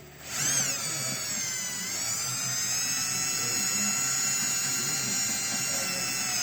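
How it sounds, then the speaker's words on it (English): A power drill whines steadily and loudly while drilling into the floor of a Lund boat, spinning up quickly and holding a high, constant pitch for several seconds. "Use this drill first. And just only drill down a little bit."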